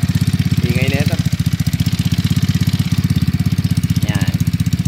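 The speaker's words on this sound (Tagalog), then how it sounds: "Masyadong maingay itong 212cc." A 212cc big bike engine idles loudly up close with a fast, even, throbbing pulse, rattling on its stand, while brief bits of talk cut in twice over the steady beat.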